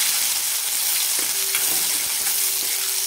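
Sliced onion fries with cumin seeds and a pinch of asafoetida in hot oil, giving a loud, steady sizzle with light stirring clicks.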